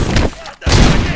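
Dense, loud gunfire bursts in the RoboCop: Rogue City video game, a booming roar that cuts out briefly and resumes, mixed with game voices.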